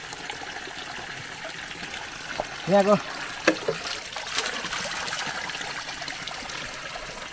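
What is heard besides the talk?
water flowing from a spout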